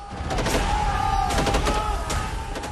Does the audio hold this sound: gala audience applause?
no